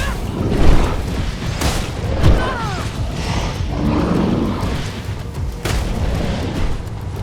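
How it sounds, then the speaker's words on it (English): A thrown bomb detonates in the Greedfall video game, heavy booms landing a few times over a steady rumble of combat and ambient game sound, with no talk during the blasts. "now I can throw a bomb"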